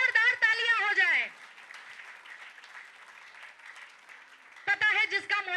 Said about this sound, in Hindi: इन सभी मास्टर्स के लिए जोरदार तालियां हो जाए